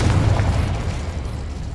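A Confringo fire-blast spell explodes in Hogwarts Legacy, one loud, low booming burst that rumbles and fades over under two seconds.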